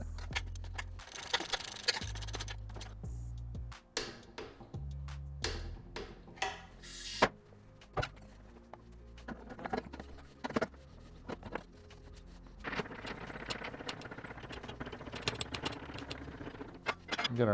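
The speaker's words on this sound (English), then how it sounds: "We're going to install the linkage on the bike with the roller bolt." Metal parts clink and clatter as the linkage and roller bolt go onto a 2004 Honda CR250 dirt bike during a restoration, with scattered close taps, rattles and jangles over a long stretch, a few bursts louder than the rest.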